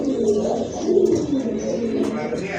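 Pigeons coo in low, soft, repeated throaty calls close by, with several birds overlapping.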